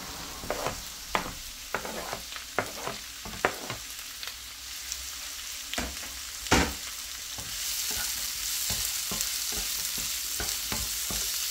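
Onion and ginger sautéing in a pan for a taro-leaf and coconut-milk dish: a run of sharp spatula scrapes and stirs over a low sizzle, then a steadier, fuller hiss of frying with no voices.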